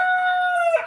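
A rooster crows nearby in a single loud, drawn-out cock-a-doodle-doo that ends with a short rough break, heard alone.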